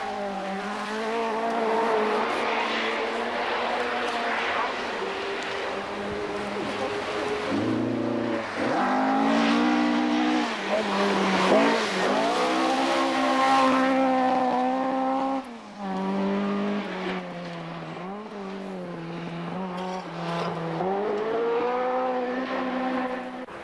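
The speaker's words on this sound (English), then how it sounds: "Bill Limburn enjoys the Scottish forests in his 2-litre Escort" A 2-litre Ford Escort rally car races through Scottish forest stages, its engine revving hard with rising and falling gear changes, sustained and fairly close, with brief dips as it shifts and accelerates.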